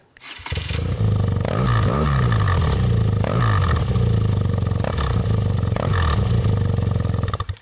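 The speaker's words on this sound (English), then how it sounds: "I just love the sound of this bike. I'll fire it up for you." A BMW R NineT Urban G/S motorcycle engine fires up after a brief start, then settles into a loud, steady idle with a few quick throttle blips, close to the microphone, with no talking.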